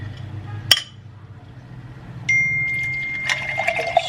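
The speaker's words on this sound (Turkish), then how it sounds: "Sütümüzü ekliyorum." Almond milk poured into a cup of coffee makes a thin trickling pour after a sharp clink from the glass, followed by a few small clinks, close up and with no speech.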